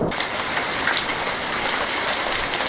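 Rain begins to fall over an outdoor natural stone patio, a steady close hiss of drops that keeps up without pause, with no talk.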